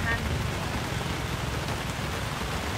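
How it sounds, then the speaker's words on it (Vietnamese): Heavy rain pours in a steady, dense roar that has kept up for over half an hour, with no clear breaks from start to finish. "mưa nãy giờ là hơn nửa tiếng đồng hồ mà vẫn chưa dứt"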